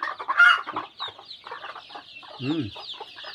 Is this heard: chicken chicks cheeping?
yes